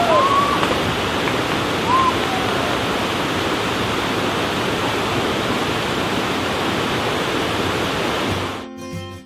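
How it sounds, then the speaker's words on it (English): A waterfall on the Cabot Trail in Nova Scotia roars as a loud, steady, broadband rush of falling water, with a couple of faint bird chirps early on before the sound cuts out at the end. "They're beautiful falls"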